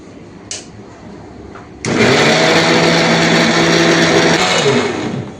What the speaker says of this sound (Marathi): थोड़ा सा कैसे पीसना है इसको बारीक पीसना है एकदम बारीक